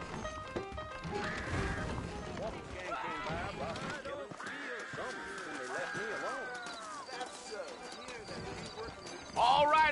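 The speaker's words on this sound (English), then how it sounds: "I got the horses saddled up and ready out front" Horse hooves clop along in a Red Dead western video game, a rhythmic patter running beneath game character dialogue and whoops, with moderate loudness and a brighter burst near the end.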